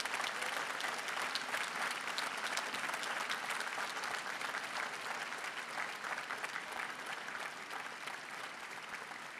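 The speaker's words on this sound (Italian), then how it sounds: "Vi invito a salutare con un applauso ai nostri fratelli dell'Aula Paolo VI." Sustained dense applause from a large audience at a papal general audience in Vatican City, steady and full throughout, with a slight easing toward the end and no voices standing out.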